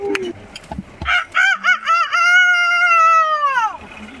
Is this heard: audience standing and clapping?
no